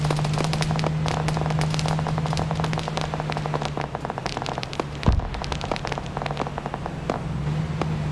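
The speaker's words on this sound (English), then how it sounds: "someone with that rocket launcher really doesn't like me" Rocket launcher explosions in a video game: a dense, steady crackle of blasts and gunfire-like bursts throughout, with one heavier, deeper boom standing out near the end.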